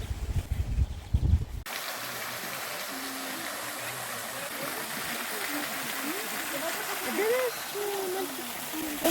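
Steady rushing water at the Burbun waterfall in Ukraine roars throughout, broad and constant, after a brief burst of louder noise at the start.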